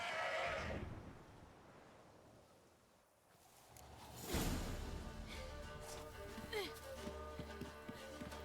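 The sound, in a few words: horse neighing in a video game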